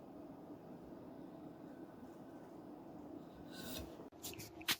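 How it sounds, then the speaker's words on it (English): A dull knife draws once across a sharpening stone, making a faint, continuous gritty scrape that ends in a few small clicks and taps. "Let's just do 1 stroke with the stone's weight."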